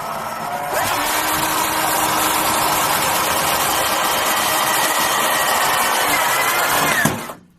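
Power screwdriver running steadily for about six seconds, driving screws through plasterboard (BA13) into a metal stud in a partition wall, a continuous motor whine that stops abruptly at the end.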